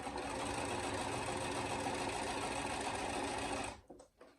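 A sewing machine stitches a small mini wallet in a steady, continuous run that fills most of the moment, then stops abruptly near the end, leaving a few faint handling clicks.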